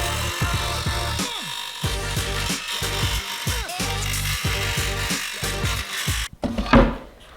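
Fin slots are cut into a fiberglass rocket body tube with a power tool, making close, buzzing bursts of cutting broken by short pauses and pitch swoops as the motor spins up and down, ending in a brief clatter.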